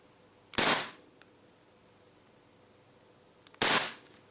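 A Secutor Rudis CO2 pistol fitted with a high-flow valve fires two loud, sharp cracks about three seconds apart, each with a short hissing tail, close up in a quiet room with no talk.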